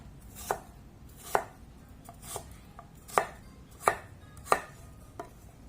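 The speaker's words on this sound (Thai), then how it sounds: "เราก็หั่นเป็นลูกเต๋าแค่นี้ก็พอแล้วเนาะ" A knife dices jicama on a cutting board, crisp single strikes about every half second to second, close and clear with no talking.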